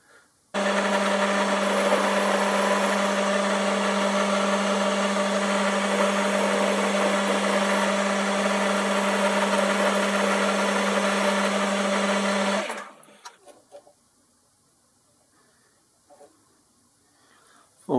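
A metal lathe turns down the outside diameter of a part to just under 15 mm, giving a loud steady whining machine drone that runs for about twelve seconds, then cuts off into quiet handling noises.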